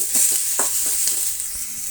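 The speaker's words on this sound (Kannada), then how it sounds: "ಈಗ ಅರ್ಧಂಬರ್ಧ ಈರುಳ್ಳಿ ಬೆಂದಾದ ಮೇಲೆ ಸಣ್ಣದಾದಂತಹ ಈರುಳ್ಳಿ ಮತ್ತು ಕೊತ್ತಂಬರಿ ಸೊಪ್ಪನ್ನು ಸೇರಿಸ್ತಾ ಇದ್ದೀನಿ" Chopped onion and coriander leaves fry in a pan over half-cooked onion, giving a steady bright sizzle with a few soft stirring scrapes, close and continuous with no talk.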